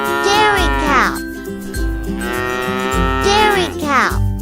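A dairy cow moos in several long, loud, close calls, with brief gaps between them.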